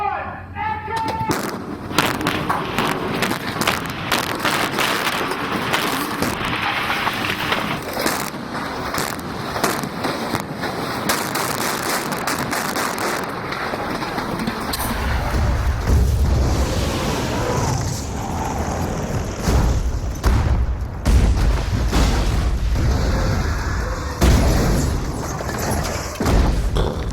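Loud, repeated pyrotechnic explosions on a film set boom and crackle in close succession, building into a heavy, rumbling roar of blasts that continues throughout.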